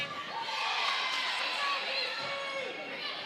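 A steady crowd roar and cheering fills a gym during a girls' high school volleyball match between Dartmouth and North Quincy, with shouting voices blended in and a commentator talking over it.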